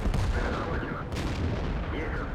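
A KV-5 tank cannon shot in World of Tanks, a single heavy boom near the middle of the clip over a low rumbling engine drone.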